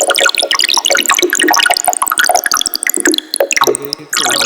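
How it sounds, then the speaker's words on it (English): Glitchy, watery synthesized tone built in the Harmor synth, a dense stream of bright dripping, bubbling blips scattered across the range, loud and continuous with a stuttering cut near the end, no voices. "water glitchy type sound"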